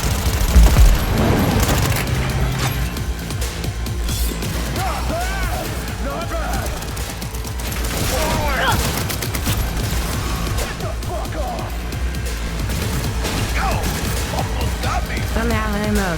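Sustained gunfire in Cyberpunk 2077 combat, with dense bursts of automatic fire, crashes and explosions rolling on loudly throughout, and a voice speaking over the game action.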